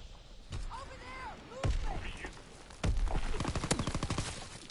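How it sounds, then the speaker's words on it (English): STG assault rifle fire in a Call of Duty game, with sharp single shots followed by a rapid automatic burst near the end, under players talking. "It's taking me 6 shots to kill somebody with an STG"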